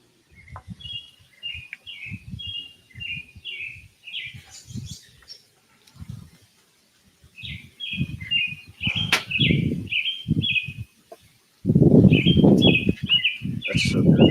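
Birds chirp at night ahead of a hurricane, fairly close, in repeated bursts of quick bright calls and twitters, with rustling wing and movement noises and a loud stretch of rustle near the end.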